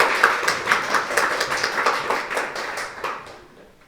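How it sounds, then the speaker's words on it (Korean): Congregation applause during a Sunday morning Easter worship service at a church. Brisk, rhythmic clapping from many hands fills the hall, then tapers off and fades out within a few seconds. "다시 한번 박수 한번 드리겠습니다"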